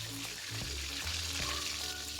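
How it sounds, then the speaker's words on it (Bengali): Fish frying in hot oil in a wok, a steady close sizzle that fills the whole short moment without pause. "মাছগুলো ভালো করে ভেজে নিব।"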